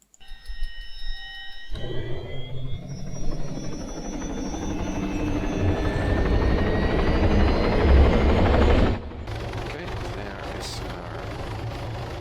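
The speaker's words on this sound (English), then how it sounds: "I'm going to fly this helicopter" Helicopter in the video game ArmA 3, its engine and rotor building to a loud, steady whine and chop that swells for several seconds, then drops sharply to a quieter idle near the end.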